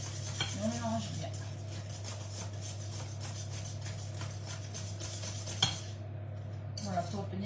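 Christmas biscuit dough with butter and sugar mixed in a bowl, a rhythmic scraping and knocking of utensil against bowl, close and quiet over a steady low hum, with brief voice sounds.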